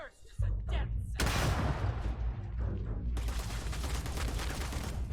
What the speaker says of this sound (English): who the hell has that goddamn rocket launcher?